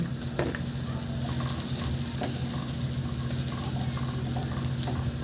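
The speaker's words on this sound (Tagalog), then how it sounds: "Naglagay ako ng konting mantika sa kawali at lagyan ko na rin ng butter. At pagkatunaw, igisa ko na yung bawang." Garlic sautés in oil and melted butter in a pan, a steady close sizzle with a low constant hum beneath it and a few light utensil knocks.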